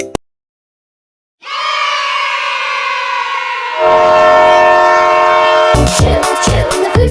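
A train horn sounds loud and sustained as a steady tonal blast, then shifts to a deeper chord before ending in a burst of rattling clatter.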